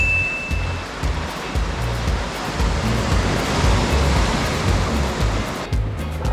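Sea waves break and wash over a beach of rounded, wave-smoothed stones along a rocky coastal cliff path, a loud, continuous roaring surge with rolling pebble rattle, close by and without voices.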